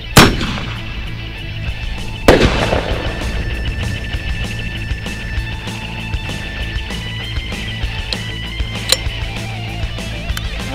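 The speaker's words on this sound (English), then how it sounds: "All right, now the grenades. Gonna start off with a star cluster." A star cluster firework grenade goes off outdoors at a 4th of July celebration: a sharp loud bang at the start, a second blast about two seconds later, then a long crackling, rumbling tail of smaller pops.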